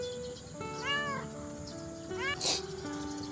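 A sickly Persian cat meows twice with a second between the calls, close by and moderately loud over a steady low background hum.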